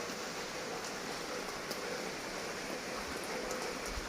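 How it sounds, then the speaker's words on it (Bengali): Light rain from Cyclone Remal falls steadily around an outdoor kitchen, a constant dense hiss of drops with a few louder splatters, close and unbroken throughout. "বৃষ্টিটা অনেকটা পরিমাণে কমেছে একটু হালকা হালকা পড়ছে"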